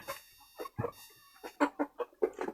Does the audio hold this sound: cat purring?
no